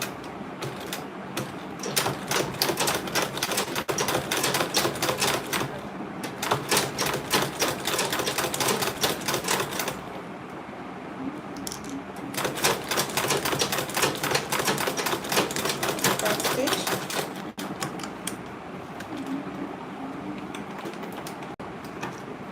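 A sewing machine stitches a zipper onto an Ankara fabric tote bag, with long runs of fast, even mechanical clatter broken by short pauses, close and loud.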